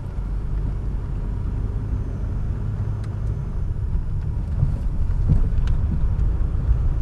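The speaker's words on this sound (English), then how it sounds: "So what I'll do is just do a quick U-turn here." A car fitted with LED headlight bulbs turns through a U-turn, heard from inside as a steady low engine and road rumble that stays loud and even, rising slightly in the second half.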